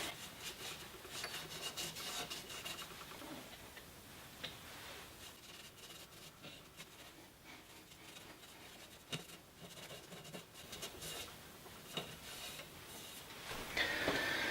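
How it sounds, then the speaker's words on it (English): Cloth or applicator rubbing shellac sanding sealer onto a woodturned peppermill, a steady soft rasping friction that continues throughout at close range, with occasional small knocks. "I'm just applying some shellac as a sanding sealer."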